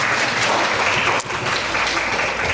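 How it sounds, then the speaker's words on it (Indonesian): Men and women in an audience at an Indonesian-language talk give a short burst of steady, dense applause, with no voice heard over it. "Boleh tepuk tangan dulu Ibu dan Bapak."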